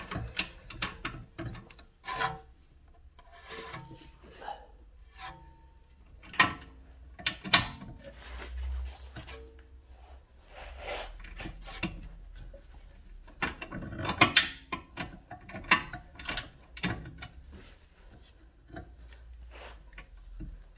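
Wrench and socket work loosening a tight top caliper bolt on the rear brakes of an Audi S3 8P, heard as scattered close metallic scrapes, clicks and ratcheting rubs in irregular bursts with quiet gaps.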